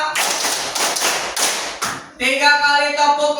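A classroom group of students performs a counted clapping routine, a burst of sharp, rhythmic hand claps in quick sets, followed by a voice speaking alone.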